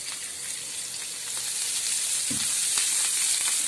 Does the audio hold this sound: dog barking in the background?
no